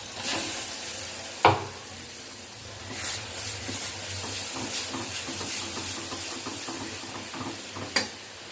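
Ground masala paste stirred and frying in a pan for a Marathi-style curry, a steady sizzle with scraping stir strokes and a few sharp clinks of the spoon against the pan, close and alone.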